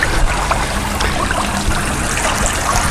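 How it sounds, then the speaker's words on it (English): Water tumbling down a six-tier stacked fountain and splashing onto flat stone, a steady close, dense rush with no pauses. "Anytime you have water falling from a high surface and hitting a flat rock like that, or a flat surface of any kind, it's really going to splash."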